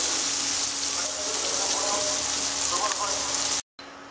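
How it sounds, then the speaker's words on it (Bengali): Slices of bitter gourd (karela) fry in a pan over lowered heat, giving a steady, even sizzle that runs throughout before cutting off abruptly near the end. "গ্যাসটা কমিয়ে দিয়ে উচ্ছেগুলো আমি এমন সুন্দর করে ভাজবো যেন ভাজতে ভাজতেই সিদ্ধ হয়ে যায়।"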